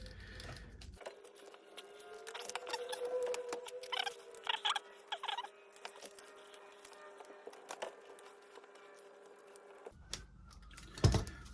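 A battery tray is unfastened and remounted on an FTX Outback 3 Paso RC truck: quiet, close-up plastic clicks, small rattles and scrapes in irregular bursts, with no talking.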